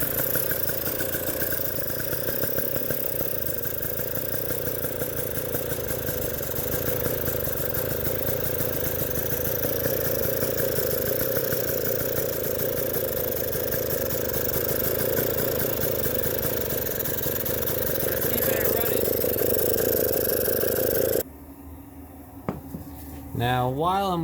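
A 2020 KTM 300xc TPI two-stroke dirt bike, recently drowned, runs with the choke out at a fast, steady idle, a loud, even buzzing drone close by for about twenty seconds before the sound drops away abruptly near the end.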